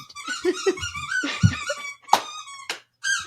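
A dog's squeaky toy squeaking repeatedly in quick irregular bursts, close and fairly loud, with bright high-pitched squeals and short gaps between them.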